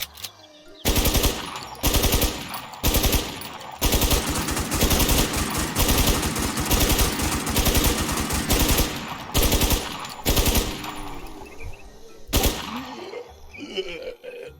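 Sustained bursts of automatic gunfire from the survival shooter Infestation NewZ, loud and rapid with brief gaps between volleys, trailing off into quieter game sounds near the end.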